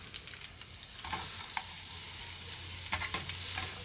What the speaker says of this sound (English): kind of saute them a little bit